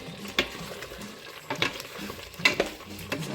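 Paneer gravy is stirred in a pan, with soft scraping strokes and a few sharper clinks of a spoon against the pan, spaced about once a second over a quiet background.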